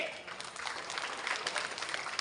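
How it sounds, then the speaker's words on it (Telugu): An audience at a kara samu stick-fighting training event claps together in a dense, steady patter of many hands, moderately close, for a couple of seconds. "అందరూ క్లాప్స్ కొట్టండి."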